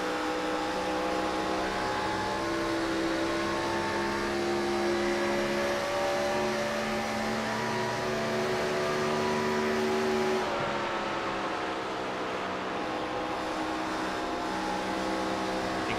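ARCA race car engine held on the throttle at Charlotte, a steady, continuous high-pitched drone whose pitch slowly drifts and wavers, close and dominant throughout.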